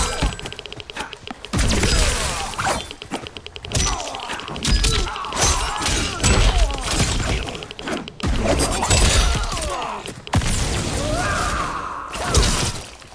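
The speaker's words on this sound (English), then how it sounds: "Liu Kang rapidly kicks the victim into the air, shattering their ribs" Liu Kang's attack in Mortal Kombat 1 plays out as a dense, continuous barrage of loud impact thuds, cracks and shattering hits with game effects, filling the whole stretch without pause.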